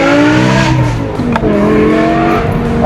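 A nearly 20-year-old manual BMW M5 with a rebuilt V10 drones loudly and close under acceleration, its engine tone shifting as it revs, with a single brief exhaust pop cracking through midway.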